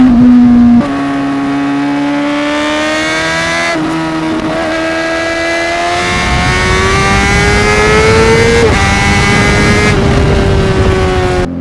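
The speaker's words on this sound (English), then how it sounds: "let those guys enjoy the sound of the bike at least a little bit" A Honda CBR600RR motorcycle engine at speed on a winding road climbs through the gears, rising in pitch with brief shift dips, loud and close with steady wind rush and no talk.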